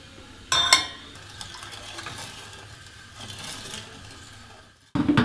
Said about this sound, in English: I'm going to put here sugar and milk and mix it a bit.